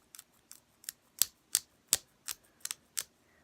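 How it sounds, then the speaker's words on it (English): Clicking from an action figure's joint as it is moved, likely a DC Multiverse Tactical Suit Batman or Wonder Woman figure: about ten sharp, close, dry clicks spaced irregularly, clear against near silence. "it does make that weird clicking noise when you move it"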